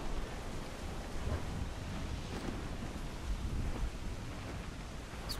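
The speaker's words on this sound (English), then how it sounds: "Storm." A storm in Assassin's Creed 4: Black Flag brings steady roaring wind and rain-like hiss with low rumbling thunder swells, a dense, constant wash of noise without speech.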